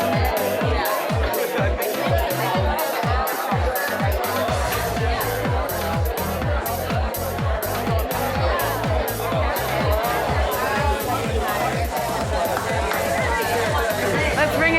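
An audience of many people chatting with their neighbors at a health event, a dense continuous babble of overlapping voices filling the room, loud and steady throughout.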